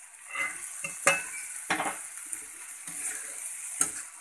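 Stuffed parwal masala with chana is stirred in a pan on the stove, with a quiet sizzle under intermittent metallic scrapes and taps of the spatula.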